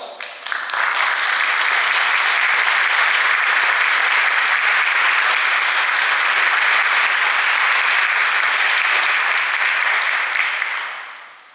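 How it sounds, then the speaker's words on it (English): A large audience applauds steadily for about ten seconds, a dense, even wash of clapping that fades out at the end. "Please join me as I ask each of these individuals to stand and recognize them with a warm round of applause."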